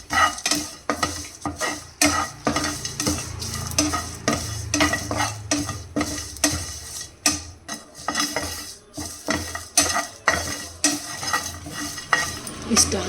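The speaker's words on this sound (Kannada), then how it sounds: "ಸ್ವಲ್ಪ ಜೀರಿಗೆ, ಬೆಳ್ಳುಳ್ಳಿ ಮತ್ತು ಕರಿಬೇವನ್ನ ಬೆಚ್ಚಗೆ ಮಾಡ್ಕೊಳ್ಳೋಣ" Cumin, garlic and curry leaves stirred in a pan while being warmed for peanut chutney powder, with rapid rhythmic scraping and clinking of a utensil against metal over a light sizzle, close and continuous without talk.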